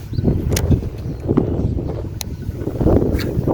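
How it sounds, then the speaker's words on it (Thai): Strong wind buffets the microphone at a riverbank during fishing, a continuous loud rumbling roar with gusty swells and a few sharp knocks. "ลมแรงดีจัง เลยครับลม"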